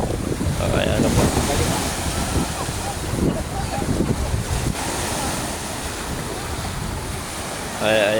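Sea waves wash around a small fishing boat being carried into the sea and launched, a continuous surging surf roar with heavy wind buffeting the microphone and faint voices under it.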